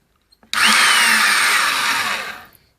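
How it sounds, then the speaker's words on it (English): A power drill boring a hole for a hammer with a 19 bit whirs loudly for about two seconds after a couple of small clicks, then winds down and stops. "when you're drilling the hole"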